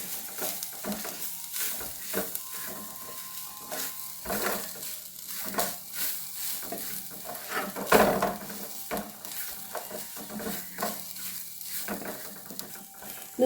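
A spoon stirs grated coconut into sprouted grains (green gram and cowpea) in a pan, with repeated scraping strokes over a soft sizzle and an occasional clink against the pan.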